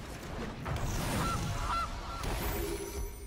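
A Gilded Goose card honks in the game MTG Arena, two or three short nasal honks in quick succession, moderately loud over game background sound.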